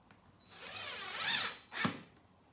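A power drill drives a 1/2-inch screw into a catch on a vintage wooden cabinet door, whirring in one sustained burst of about a second, then a short sharp second whine, close and moderately loud, with no talk.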